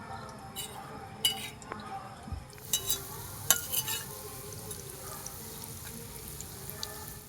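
Milk-powder sweets fry in a pan, a soft sizzle under scattered clinks and scrapes of a utensil against the vessel, fairly quiet and close.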